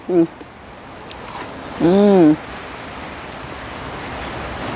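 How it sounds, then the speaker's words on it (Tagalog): Strong outdoor wind in Thailand roars as a steady broadband rush close to the microphone, with short vocal sounds heard briefly over it. "Napakalakas po ng hangin."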